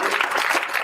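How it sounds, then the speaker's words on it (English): A conference audience claps together in a brief burst of dense applause filling the room. "a big round of applause"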